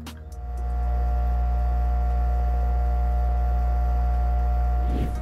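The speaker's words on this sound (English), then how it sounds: "I then placed the air pump on a towel to help dampen the noise of the pump, which is a bit loud in my opinion compared to my other air pump." Air pump of an indoor hydroponic grow kit set on a towel in a basement, running with a constant low electric hum and steady hiss, fairly loud and close, unchanging throughout.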